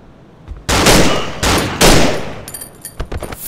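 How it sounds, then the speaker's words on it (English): Gunfire in the horror game Cry of Fear: several loud, close bursts of shots, each lasting about half a second, followed by quicker, smaller cracks and clatter. "we're getting shot at"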